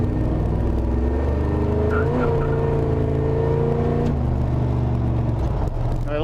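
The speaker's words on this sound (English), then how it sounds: "Just my little downshift there chirped the tires." A 1982 Chevrolet C10 Pro Street pickup with a 500-plus horsepower engine roars loudly and up close, its revs climbing, then dropping sharply as it downshifts, with a brief tire chirp under the engine note.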